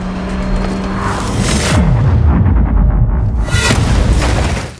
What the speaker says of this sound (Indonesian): Julia menggaspol mobil memojokkan kelompok Alvaro hingga membuat mobil yang mereka tumpangi terbalik.